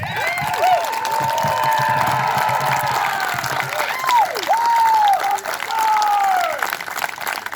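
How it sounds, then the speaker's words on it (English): Applause and cheering from a crowd at a 2022 celebration of life for George Abdallah, steady and loud throughout with shouts and voices rising over the clapping. "Let's give one heck of a round of applause."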